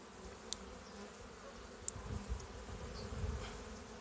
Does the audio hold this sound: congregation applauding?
no